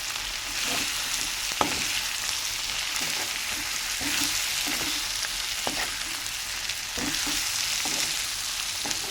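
A broad bean and tomato curry fries and is stirred in a pan, a constant crackling sizzle with soft scraping strokes of the spoon recurring every second or so, close and moderately quiet.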